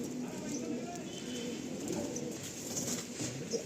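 A tournament-quality pigeon coos softly in the background, low murmuring calls under steady ambient noise, with a person talking nearby.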